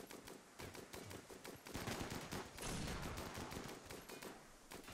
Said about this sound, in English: equip your anti-material rifle, and get the shooting